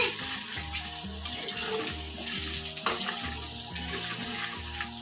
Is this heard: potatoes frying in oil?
yes